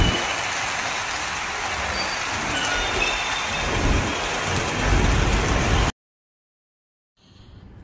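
Steady Mumbai monsoon rain pours and patters on surfaces with low rumbles mixed in, loud and continuous for about six seconds before it cuts to silence and then returns faintly.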